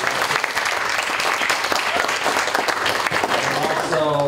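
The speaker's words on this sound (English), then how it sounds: "We need a round of applause" Audience at a Latino business association conference applauding the organizers, a loud, dense burst of clapping throughout, with a voice starting to speak near the end.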